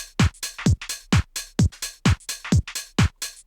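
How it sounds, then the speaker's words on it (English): A duplicated snare drum sample in Ableton strikes in a crisp, repeating garage-house pattern, about a dozen sharp hits with short decays, clean and alone. "I duplicated the snare to create this"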